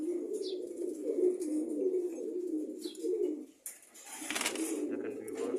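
Pigeons coo in soft, low, throaty rolls that repeat close by, joined by a few faint chirps and a brief flutter of wings.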